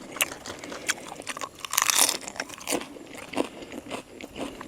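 Close-up eating of Isan fermented pork sausage with glass noodles and minced pork: crunchy bites and moist chewing, with a denser burst of crunching in the middle, heard alone without talk.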